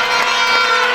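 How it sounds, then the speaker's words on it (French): A church congregation cheers and shouts loudly in praise during a French-language worship service, a dense, bright wall of voices throughout. "acclamons très fort Jésus-Christ"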